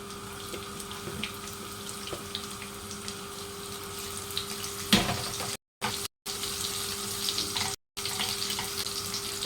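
Garlic sizzling in hot coconut oil with mustard seeds and cumin, a steady close frying hiss with brief crackles, broken by a few short silent gaps.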